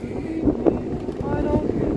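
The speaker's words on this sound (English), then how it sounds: "It's very windy today." Wind buffets the microphone in low gusts on the deck of the S.S. Sudan steamer in Egypt while a voice talks over it.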